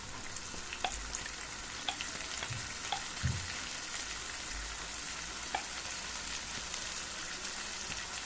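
Onion paste sizzles steadily in a pan for palak paneer, a continuous soft crackle and hiss with occasional faint clinks of stirring, with no voices.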